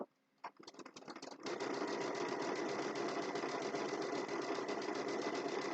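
A sewing machine stitching fabric starts with a few stuttering stitches, then settles into a steady, fast, continuous whirring rattle close by that runs to the end with no talk.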